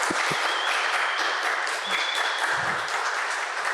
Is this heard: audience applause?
yes